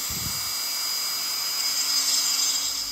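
A Dremel rotary tool drills a hole into the shoulder of a figure, giving a steady, loud high-pitched whine that runs unbroken for the full three seconds at close range.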